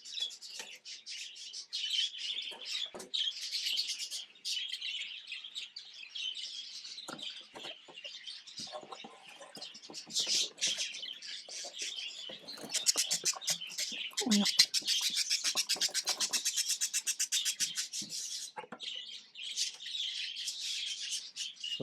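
Budgies chatter and chirp in a breeder's aviary, a dense, constant flock twitter of high warbles and squeaks that rises to busier bursts midway, heard close and fairly loud.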